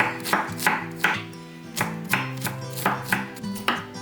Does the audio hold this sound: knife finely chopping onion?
yes